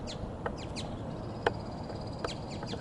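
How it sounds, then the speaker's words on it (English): A striped woodpecker calls outdoors, recorded on a Sony DSC-HX400V camera, with several short sharp notes at irregular intervals, moderately distant over a constant background hiss. "can hear a striped woodpecker."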